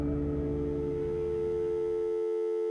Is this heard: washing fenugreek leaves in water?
no